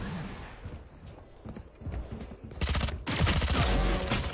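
Gunshots in a shooter video game, with scattered single shots early, then a louder burst of rapid fire near the end.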